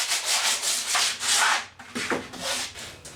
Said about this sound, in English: Last thing I'm going to do is just block it with some sandpaper. So this is 80 grit,